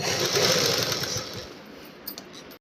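A sewing machine runs fast and steadily while stitching piping onto fabric without a special single-sided foot, a dense mechanical whirr that slows and stops, followed by a few faint clicks.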